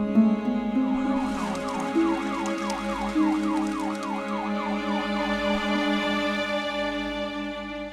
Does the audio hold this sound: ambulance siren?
yes